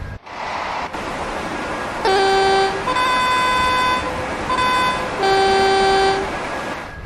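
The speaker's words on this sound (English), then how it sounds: "Loving the different horn sound to the 87." Horn of a Class 86/2 electric locomotive in Train Sim World 5, two-tone blasts sounding in alternating pairs, loud and close over a steady background rumble of the running train.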